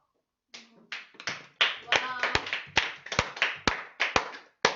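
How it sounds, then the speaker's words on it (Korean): Classroom of students clapping hands, a series of sharp separate claps building into irregular bursts at close range, with brief voices between them. "너네가 이해 괜찮은 것 같아서 박수 치는 거야?"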